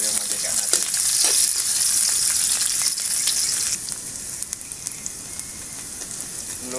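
Onion frying in hot oil in a pan, a loud, dense, continuous sizzle close by that eases slightly partway through, with a few light stirring clicks and no voices.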